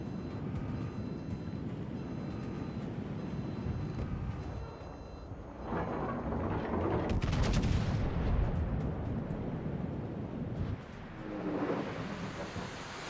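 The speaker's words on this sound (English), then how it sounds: "Comes the salvo" The French tier 10 battleship Republique fires a salvo in World of Warships ranked play: booming heavy-gun blasts over a steady engine and water hum, with a sharp loud crack in the middle and a later rumble.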